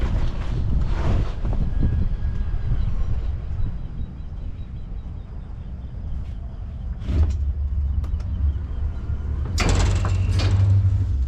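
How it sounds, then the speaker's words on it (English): A fishing boat runs back across open water after a crappie fishing trip, its engine giving a steady low drone under heavy wind buffeting the microphone, with a few louder gusts and thumps. "I'm driving the boat back so Crystal can relax"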